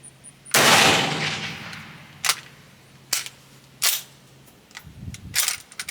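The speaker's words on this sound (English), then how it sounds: "you'll see when I go to cycle the bolt, sometimes it likes to work, sometimes it doesn't" Metallic clacks of a gun bolt being cycled, one long rattling slam followed by several sharp separate clicks and clunks, close and loud with pauses between.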